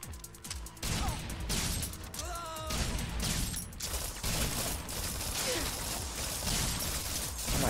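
Dense, busy gunfire from Dead Rising 3, firing in rapid bursts amid clattering game noise and crashes over several seconds, loud and continuous with little pause.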